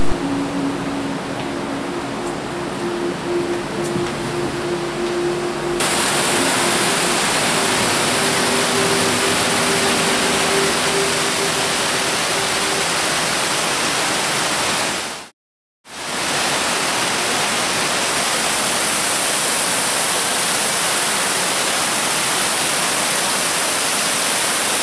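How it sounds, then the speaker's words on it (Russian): A dense, steady roar of rushing water fills an underground tunnel beneath Moscow, loud and unbroken, with one brief gap of silence. "С каждым пролетом снизу до нас все отчетливее доносился шум воды."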